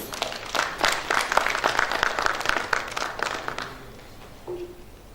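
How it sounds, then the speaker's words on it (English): An audience claps at the inaugural ceremony of a translation festival in Dhaka, a fairly loud burst of applause that builds, holds for a few seconds, then fades out near the end. "A round of applause, please"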